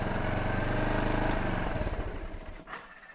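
A motorcycle engine fitted with a new carburetor runs steadily right after starting, a loud close pulsing drone that gradually eases lower toward the end.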